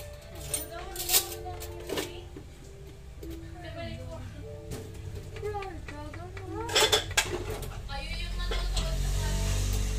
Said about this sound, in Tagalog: Halo-haloin natin. Para magkulay-kulay lang siya.